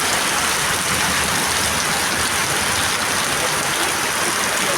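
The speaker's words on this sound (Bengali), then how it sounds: "দেখুন প্রচুর বৃষ্টি হচ্ছে" A heavy afternoon downpour in Tamluk, a dense, constant roar of rain pouring down, loud and unbroken throughout, with no voices.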